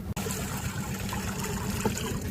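Bombay duck fish are rinsed in water at a coastal fishing site, giving a steady, close splashing and trickling wash with a brief sharp knock near the start.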